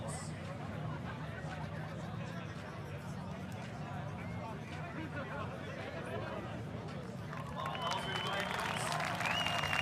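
Crowd at a nighttime drift competition cheering and clapping, a steady dense roar of applause and chatter that swells louder toward the end, with whistles or shouts rising over it.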